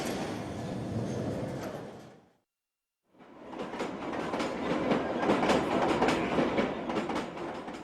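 A 200-ton London Underground train rumbles loudly on electrified track, its broadband clatter breaking off for a moment of near silence, then returning stronger and sustained as the carriages pass close by.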